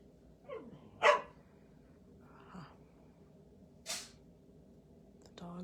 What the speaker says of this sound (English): the dogs are getting fed. So I don't know if you can hear them or not, but they're excited